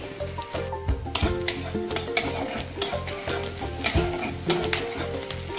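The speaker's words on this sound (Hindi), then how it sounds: "तेल टिके गरम हो गला परे हल्ला परे ये जो कटा प्याज को आपण भाजीबे" Chopped onion frying in hot oil, a constant sizzle with frequent stirring knocks and a regular low rumble underneath, fairly close, without speech.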